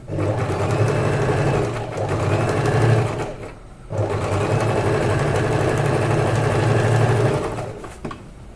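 A sewing machine stitches a saree blouse belt in a loud, steady whirring run, stopping briefly partway and then running on before slowing near the end.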